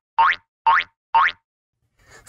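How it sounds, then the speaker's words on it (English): A cartoon boing effect sounds three times in an even bouncing rhythm, each a springy rising twang, loud and isolated, followed by a faint rustle. "You'll hear me bounce four times"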